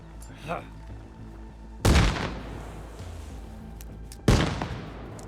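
Frag grenade blasts in ARMA Reforger: a faint thump early on, then two sharp, loud explosions about two and a half seconds apart, each decaying into a rumbling tail over low background noise.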